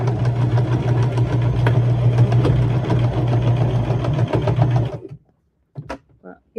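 A sewing machine stitches a rag quilt in one steady, loud whirring run for about five seconds, then halts, leaving a few brief knocks in near silence.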